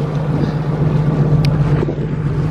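A steady low engine drone of a boat under way, with constant rushing wind and water noise close to the microphone, no talking.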